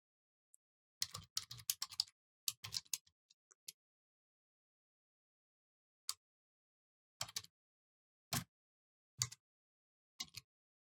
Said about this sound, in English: So I'm going to type in df equals